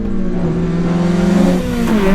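A Honda Accord Euro R engine revs up hard and close, its tone climbing steadily as the car accelerates.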